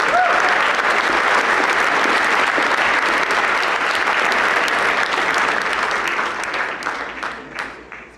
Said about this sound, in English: let's give him another huge round of applause.